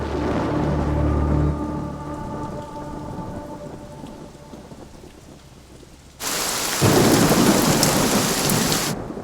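Heavy rain pours steadily through a stormy scene in a Tamil-dubbed mystery thriller film, with a low rumble of thunder early on and a sudden loud surge of downpour near the end; no one speaks.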